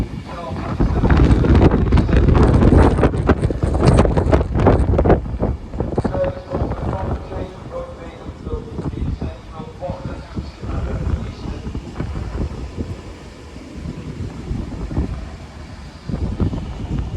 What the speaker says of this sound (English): here comes Pride 390-119 running from Preston to London Euston.